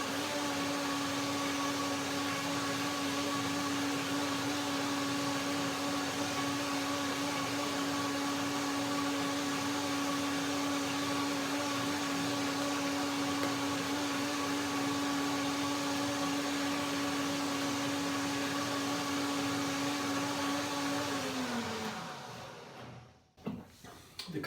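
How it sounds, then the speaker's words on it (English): A blender running steadily for about twenty seconds as it purées walnut, fig and banana cream, a constant motor whine with a stable pitch that winds down and stops near the end, followed by a few knocks. "Let's see one more blender dance."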